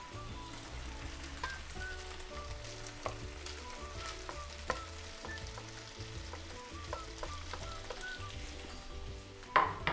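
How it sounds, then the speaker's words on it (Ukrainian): Steady sizzling of onions frying in a pan with browned meat for solyanka, a continuous crackling hiss with small pops, close and fairly loud, no talking. "а цибуля смажиться"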